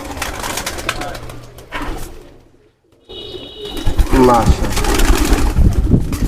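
Domestic pigeons, including a male, coo softly in a loft among a collection of fancy feathered-foot pigeons, low murmuring calls mixed with rustling and nearby voices talking.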